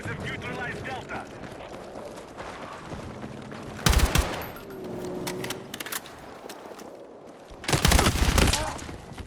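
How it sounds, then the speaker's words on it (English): Weapon gunfire in a first-person video game heard through Audeze Maxwell 2 headphones: several sharp, loud bursts of shots stand out against a steady bed of game ambience and chatter. "so already the sound of the weapon, it just sounds less trebly"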